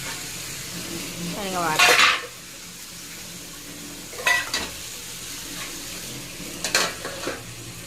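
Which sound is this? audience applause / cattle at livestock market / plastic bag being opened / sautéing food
sautéing food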